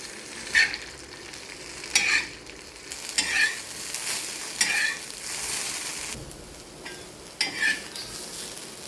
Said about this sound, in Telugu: మనం కట్ చేసుకున్న బెండకాయ ముక్కలు వేసి బాగా ఫ్రై చేయాలి